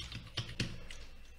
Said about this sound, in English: I'm just typing in Chinese